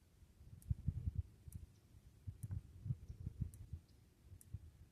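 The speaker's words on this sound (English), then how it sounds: "And we're going to go to the right, so clockwise. So I'm going to click it 6 times." A rifle scope turret being turned clockwise gives a series of faint, soft clicks, about six close detents in an uneven rhythm, heard up close in a quiet setting.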